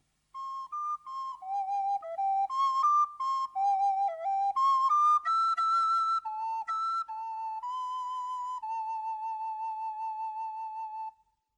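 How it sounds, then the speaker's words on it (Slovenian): A homemade wooden pipe plays a simple, breathy-clear melody of short stepping notes, ending on a long held tone, heard alone and close. "Poslušajte, oče, kako lepo poje piščal,"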